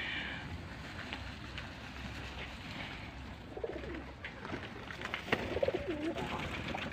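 Pigeons cooing outdoors among trees, soft low coos rising a few times over a quiet background of wind and distant ambient noise, with no talking.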